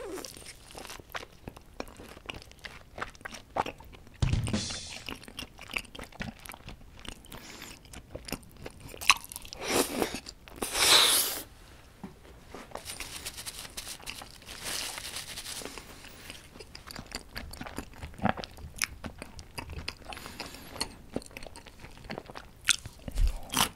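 Whole raw tuna belly sashimi being torn and chewed up close, with wet biting, crunching and chewing noises spread irregularly across the stretch and a few louder tearing bursts.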